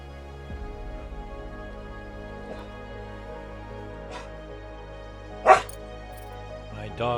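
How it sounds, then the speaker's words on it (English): A dog barks in a room, one sharp close bark standing out above steady background game music and hum, with a couple of fainter yips around it. "My dog seems to be demanding attention"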